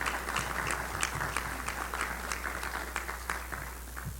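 An audience at a keynote event applauds the employees in a large room, steady moderate clapping with sharper individual claps standing out, heard from some distance and continuing throughout.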